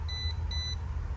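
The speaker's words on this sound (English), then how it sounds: "Take your voltage checker, run it across" A handheld voltage checker beeps twice at a 240V Intermatic T104 pool timer, two short high-pitched tones close together over a low background hum.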